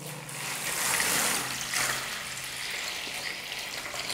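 Water is poured over a POCO X3 Pro phone lying face down, a continuous splashing trickle that swells early and then settles into a steady stream.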